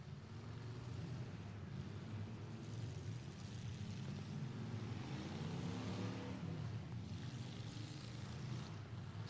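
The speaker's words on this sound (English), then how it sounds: "Six cars running and going." Several demolition derby cars idle and rev on an outdoor arena track, a steady low engine drone with slowly shifting pitch, continuous and moderately distant, with no voices.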